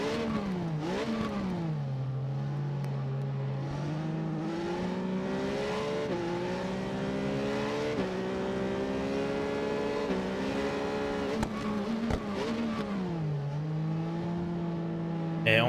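Triumph Street Triple RS motorcycle in the racing video game Ride 4, engine revving and climbing through gears with repeated rising whines and shift drops, under ongoing commentary.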